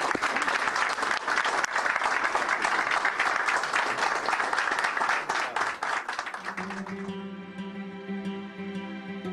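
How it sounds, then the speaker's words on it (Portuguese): Crowd applause at a Brazilian government ceremony, dense clapping that holds loud and steady, then gives way to a sustained tonal chord of music near the end. "Salve de palmas para o nosso Brasil."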